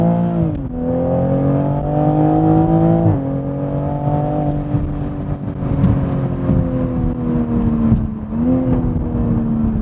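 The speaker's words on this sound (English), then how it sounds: "Let's do a little second gear roll" A Toyota A90 Supra pulls hard in second gear, its engine note climbing steadily with a brief dip at each shift-like pause, loud and close with no talking over it.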